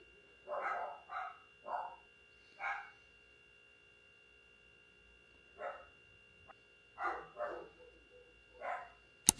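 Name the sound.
dogs barking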